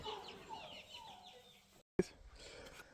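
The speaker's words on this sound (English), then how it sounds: "We've got all the chickens in here now, so they can settle in and get used to the space." Chickens clucking inside a coop, soft scattered clucks and calls at moderate distance, with a brief silent gap followed by a sharp knock or thump.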